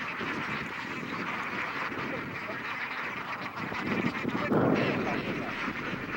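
Ducks on a marshy lakeshore where flocks are farmed by the thousand, a continuous dense chatter of quacking and honking at moderate distance, swelling louder near the end.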